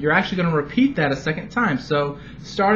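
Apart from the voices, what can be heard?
No everyday noise stands out behind the speech.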